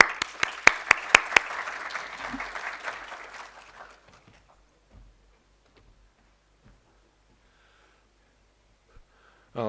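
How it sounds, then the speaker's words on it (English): Applause from a meetup audience on performance optimization greets a speaker taking the stage: a few sharp claps up front, then a dense round of clapping that fades out after about four seconds, leaving near silence. "let's invite Fedor Pikus on stage with a round of applause"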